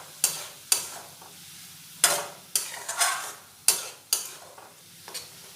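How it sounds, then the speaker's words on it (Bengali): Moong dal being stirred in a pan: several sharp scrapes and knocks of a spoon against the metal, spaced irregularly, each followed by a brief hiss of sizzle, close and clear without talk. "এবার একটু নাড়াচাড়া করে নেব।"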